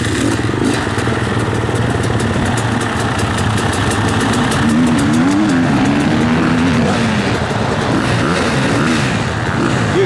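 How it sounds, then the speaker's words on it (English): Motorcycle engine idling loud and close at a cross-country sprint nationals event to warm up, a steady rough tick-over with slight rises in revs throughout. "Bike tick over"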